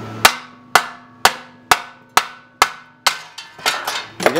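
Nine sharp hammer taps ring out on car heat shields, evenly spaced and close, the last few coming quicker and rattling the loosened shields.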